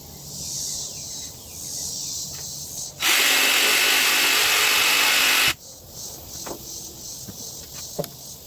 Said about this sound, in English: I'm going to go ahead and cut the length off.